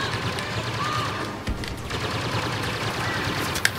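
Blaster fire in the video game Star Wars Battlefront, a steady stream of rapid shots and distant battle noise running throughout, fairly loud, with a sharp crack near the end and a faint voice in the mix.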